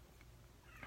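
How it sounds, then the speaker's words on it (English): A faint cat meow rises near the end of a quiet, rumbling background, a single short cry close by. "If you hear the cat's meowing."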